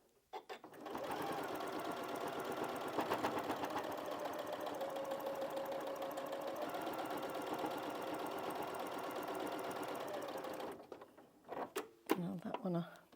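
A domestic sewing machine runs steadily for about ten seconds, stitching through a thick quilt-as-you-go patchwork cushion seam, then stops and gives a few short clunky bursts at the end.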